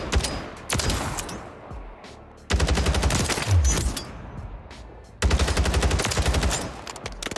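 Bursts of automatic gunfire from Warzone play as a gun's recoil is tested, with three sustained rapid-fire strings separated by short pauses, loud and close.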